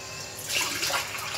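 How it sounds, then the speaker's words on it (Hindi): Water is poured into a pot of vegetable pulao already seasoned with turmeric, a splashing, bubbling pour that grows louder midway and continues close up, with no talking. "अभी इसमें हम पानी ऐड करेंगे।"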